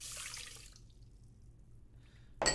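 Water poured into a rice cooker bowl, a short close splashing pour that trails off into quiet, followed by a sharp clatter at the end.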